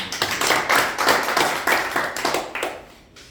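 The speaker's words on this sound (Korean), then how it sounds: "다시 한번 격려 박수" A church congregation at a breakfast worship service claps in encouragement: a short burst of fast, dense applause lasting about three seconds before fading out.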